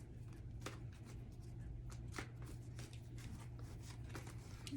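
Quiet riffling of cards being shuffled, a run of soft rapid flicks over a low background hum.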